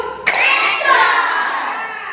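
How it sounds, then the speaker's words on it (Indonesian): A fourth-grade classroom answers a teacher's call with a burst of hand clapping that begins abruptly and carries on as a loud, dense wash, with children's voices mixed in. "Ayo, tepuk satu."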